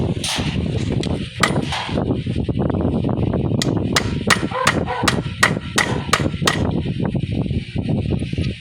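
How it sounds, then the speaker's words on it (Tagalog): A hammer gently taps a Mio i 125 engine bushing into place, sounding as a run of sharp, close metallic knocks at an irregular pace over a busy workshop background. "Then pag sentro na, tsaka nyo papaluin ng dahan-dahan."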